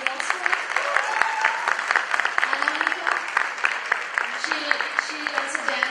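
Steady audience applause for a singer at an Indian Talent Discovery Foundation tribute evening, a continuous bed of clapping with crowd voices mixed in throughout.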